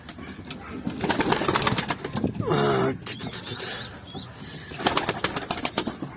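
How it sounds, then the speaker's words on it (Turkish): Pet birds in a coop taking off and flying, with bursts of rapid wing flapping and fluttering close by, some soft cooing, and a person talking at times in between. "Kuşlarımız uçuyor."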